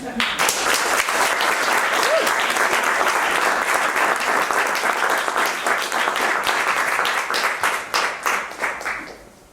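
Audience applause at a poetry reading welcoming poets to the stage: dense, steady clapping from a full room that holds evenly, then thins and fades out near the end.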